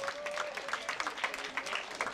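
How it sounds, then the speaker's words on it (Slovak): Applause from an audience cheering children at a Slovak forest-education award event, a steady clatter of many clapping hands at moderate distance, fairly faint, with a brief voice tone over the start. "zatlieskajte im veľký potlesk"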